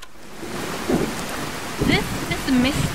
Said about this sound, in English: This is misty rain